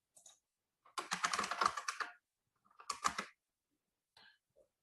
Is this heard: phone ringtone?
no